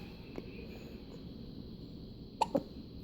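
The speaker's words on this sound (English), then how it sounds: "Yeah, you got the hiccups." A baby's small hiccups, two quick faint hiccup bursts close together near the end, over a quiet indoor background with no talking.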